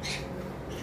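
Green Fischer's lovebirds squawk in a pet shop, a harsh, continuous burst of high, raspy calls that fills the short moment, brightest at the start and again near the end.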